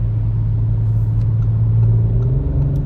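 A 2023 Audi RS5 engine drones loud and close with a steady low rumble from inside the cabin, its pitch shifting slightly as the transmission makes quick downshifts, with no talk.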